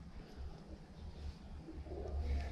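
Pigeons cooing inside an old fort, low soft repeated coos echoing faintly from within the stone interior, quiet and steady over a dim background.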